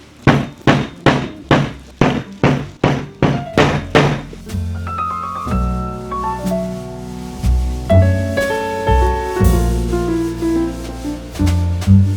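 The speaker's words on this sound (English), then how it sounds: "this is where you want to grab your hammer" Hammer flattening a flat fell seam on sewn dungarees, a quick series of about a dozen loud, evenly spaced thunks, then quieter sounds with scattered tonal clinks and a few more knocks near the end.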